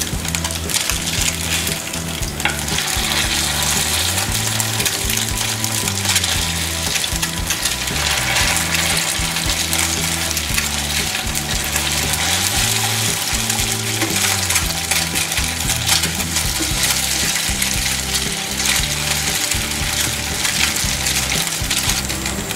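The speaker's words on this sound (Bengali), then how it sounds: "চুলার আঁচ মিডিয়াম করে দিয়ে ভাজতে হবে, বেশি দিয়ে রাখা যাবে না, তাহলে পুড়ে যাবে।" Bread pieces for semai shahi tukra fry in oil over medium heat, giving a loud, continuous crackling sizzle that lasts the whole stretch, with a low tonal backing underneath and no talking.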